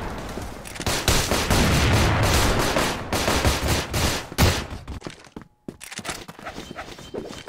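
Rapid bursts of gunfire in the game CrossFire crackle in dense volleys, with short pauses and a brief silent gap before more shots follow.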